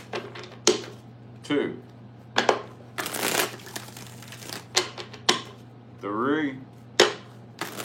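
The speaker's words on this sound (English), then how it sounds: "Let's get 4 shuffles." Tarot cards are shuffled in several short bursts of riffling between spoken counting, with someone talking nearby.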